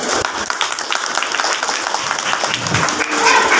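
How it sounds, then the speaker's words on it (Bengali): Steady, dense applause fills the hall at a Bengali devotional discourse on the life of Jaydev Goswami, a seated audience clapping for a woman who asked a question, continuous and fairly loud throughout without a break. "মাতাজির জন্য একটা হাতে তালি হোক।"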